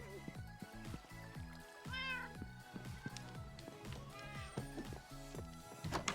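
Cats in a Minecraft server meow over and over, many overlapping calls in quick, uneven succession forming a busy, steady chorus that never pauses.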